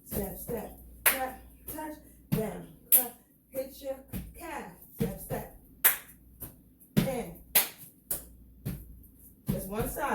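Sharp hand claps in a West African dance routine, struck in a steady counted rhythm of repeated single claps, close and crisp, mixed with a voice calling out the steps between them.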